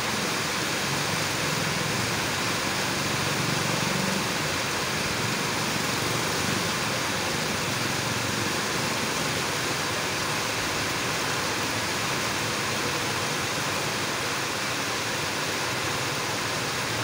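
Heavy rain comes down on a flooded road in a dense, unbroken hiss that fills the whole span at high loudness, with no talk over it.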